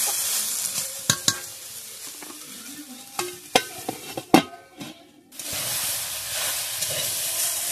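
Potatoes frying with gima greens in a pan get stirred with sharp spatula clacks and scrapes over a sizzle, then settle into a smooth, continuous frying hiss.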